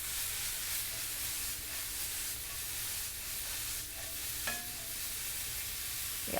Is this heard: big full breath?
no